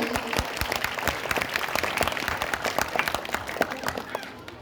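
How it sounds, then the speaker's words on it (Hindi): Audience applause at a school day celebration, a dense run of many hands clapping continuously and fairly loud throughout, with scattered sharper claps standing out from the crowd. "इन बच्चों के लिए जोरदार तालियां बजाइए।"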